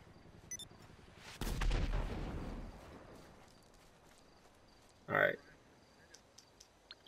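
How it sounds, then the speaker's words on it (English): A rocket launches in Grand Theft Auto V with a loud, sudden blast that rumbles and fades over about a second. A second, shorter bang follows a few seconds later, with quiet background between them. "Shoot a rocket."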